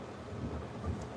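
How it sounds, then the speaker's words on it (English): Thunder outside during a storm, a low, soft rumble rolling at a distance, heard indoors beneath faint steady rain with no one speaking. "Y'all hear the thunder and lightning outside?"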